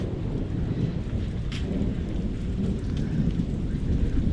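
A summer thunderstorm outdoors: steady, dense rain hisses and patters close by while low thunder rolls underneath, with one brief sharper crack partway through.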